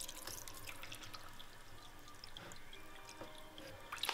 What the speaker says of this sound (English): Next thing we have to do is fill the pot up with some water.